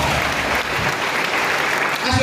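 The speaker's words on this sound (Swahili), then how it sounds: "makofi mazuri" Steady crowd applause at a church gathering, dense and close, with speech over it throughout.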